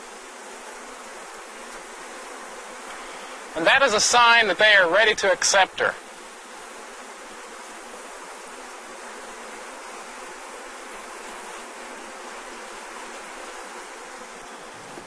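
Honey bees crowd around a queen cage, a steady dense buzzing humming throughout, with someone talking over it for a couple of seconds partway through.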